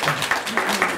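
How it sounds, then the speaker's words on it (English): Audience applause at a poetry reading, a brief burst of many hands clapping at moderate loudness, with clustered peaks of claps over a second and no voices standing out. "I didn't mean to elicit applause with that."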